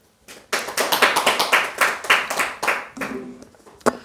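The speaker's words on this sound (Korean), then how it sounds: "박수 한번 쳐주십시오" Audience at a Buddhist lecture on the Diamond Sutra claps briefly, a burst of fairly close, sharp handclaps that thins out toward the end, with one last loud clap.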